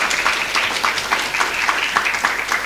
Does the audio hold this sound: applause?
yes